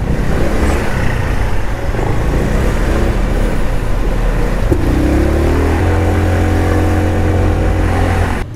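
A Volta Apec PS5 125 motorcycle weaving through traffic gives a steady, close engine drone. The pitch climbs as it accelerates about halfway through, then holds over constant road noise.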